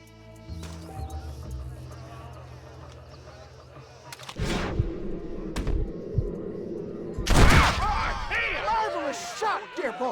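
Gunshots ring out in a Western shootout in the video game Red Dead Redemption: a few sharp, loud reports break through a rumbling scene, with birdsong and game voices around them.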